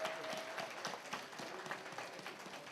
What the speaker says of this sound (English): give another round of applause to all of our inductees this afternoon